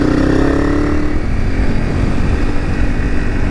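A Honda CRF300 Rally dirt bike runs on an enduro trail with a steady, loud engine drone. A rising whine fades in the first second, followed by continuous rough running with wind noise.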